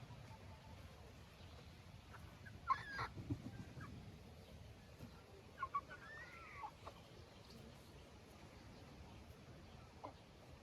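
Roosters on a farm, three young cockerels, clucking and calling in short scattered bursts at a moderate distance over steady outdoor background noise, with a couple of louder calls standing out.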